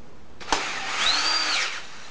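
A power drill drives a screw into a wooden futon frame: a click, then a short motor whir that rises in pitch and winds back down, close and fairly loud, lasting about one and a half seconds.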